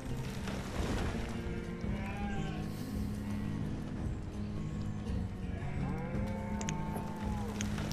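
Sheep in the video game Banished bleat in repeated, fairly close calls over a continuous game ambience, with a faint voice briefly in the background.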